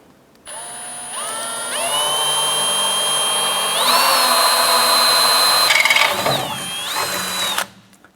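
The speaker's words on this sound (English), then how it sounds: "going to take our drill" A power drill bores a hole through the bumper of a 1994-2004 Chevrolet S10 pickup during an air shock install, whining steadily and close for about seven seconds, its pitch shifting upward partway through and bogging near the end before it stops.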